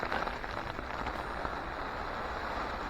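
Torrential rain pours down on a dark night at a carp fishing spot, a dense, steady hiss of heavy drops drumming on a surface, loud and unbroken from start to finish with no voices.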